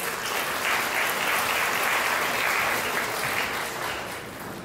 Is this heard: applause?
yes